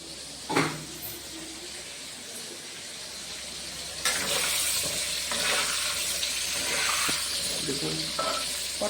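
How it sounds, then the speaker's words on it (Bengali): Pointed gourd (potol) frying in a pan, a moderate sizzle with occasional stirring scrapes and clatter, growing louder midway, with brief voices in the background. "পটলগুলো একটু লাল হবে, এখনো পুরো ভাজা হয়নি, আর একটু লাল হবে।"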